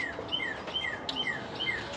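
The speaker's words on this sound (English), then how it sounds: "Oh, the birds are singing." Birds sing outdoors in a garden where serrano peppers are being potted, giving faint, repeated, quick chirps that fall in pitch at a steady rhythm.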